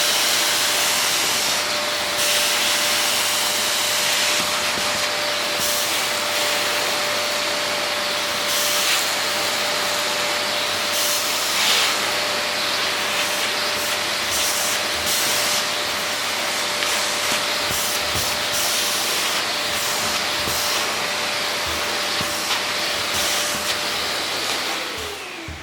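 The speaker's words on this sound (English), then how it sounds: "has a strong suction power with low noise. It is a reliable vacuum and it will clean" A Silvercrest SBBK 700 B2 vacuum cleaner runs steadily, a loud continuous whooshing hum with a thin whine and occasional scraping as the nozzle moves, without speech.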